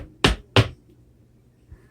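Two crisp, close stomps on a hard floor from a zapateado de tres footwork step, in quick succession, followed by a very faint tap after a pause.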